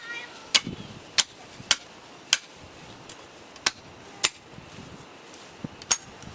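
A Woodman's Pal chops branches off a cedar walking stick outdoors, about nine sharp separate blade strikes at an uneven pace, close and crisp over a quiet background.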